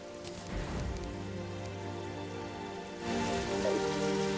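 Rain in Terraria makes a constant soft patter alongside tonal game music. It grows slightly louder and brighter about two thirds of the way through.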